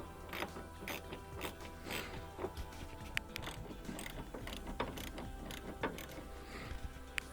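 A socket ratchet clicks in quick uneven bursts while screws come out of a Gen 3 Toyota Prius headlamp assembly, close and fairly quiet with light mechanical knocks between strokes.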